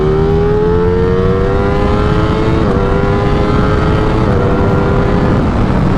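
A Ducati Streetfighter V4 motorcycle pulls hard in third gear, its loud close engine note climbing steadily in pitch through the revs, briefly dipping once at a shift point before rising again, with no voices.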